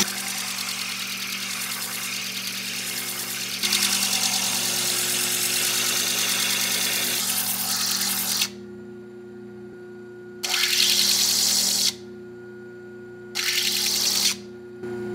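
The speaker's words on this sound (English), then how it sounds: "So I'm going to go in and I'm going to grind those now." Gem silica rough ground into a preform on a lapidary grinding wheel, a loud steady whine of the motor with the grinding noise pulsing on and off in several bursts, no talk.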